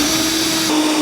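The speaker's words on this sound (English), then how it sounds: "So now we have to drill this hole." Drill boring a hole through the metal of a 1949 Chevrolet gasser during a tachometer install, a steady loud whine with a constant pitched tone running the whole second, close and alone with no talk.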